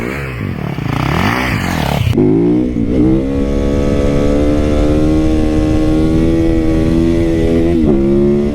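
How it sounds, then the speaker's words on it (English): A 2019 Yamaha YZ450FX converted to a street-legal supermoto motorcycle is ridden hard, its loud, close single-cylinder engine revving and climbing through gears before settling into a strong, steady high-rpm drone. "This is a 2019 YZ450FX. I converted it to a street legal Supermoto."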